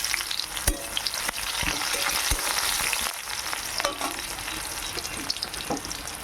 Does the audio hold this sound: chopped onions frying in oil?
yes